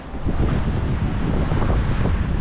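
Strong 20 to 22 knot wind buffeting a sailboat broad reaching on port tack at sea, a loud continuous roar of wind over the microphone with a wash of waves beneath.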